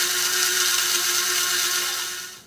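An electric grinder pulverizing dried chilies into chili powder, a steady high-pitched whirring drone that holds loud and close before winding down at the end.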